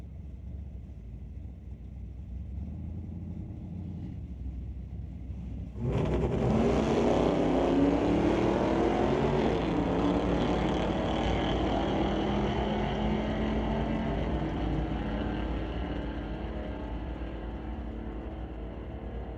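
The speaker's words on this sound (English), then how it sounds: "We'll bring up Brent Elliott and the El Camino, racing Kai Jessamine in the Regal" An El Camino and a Buick Regal drag race down the strip at a street-legal night, with engines suddenly surging into a sustained roar that holds steady and slowly fades, heard from a distance.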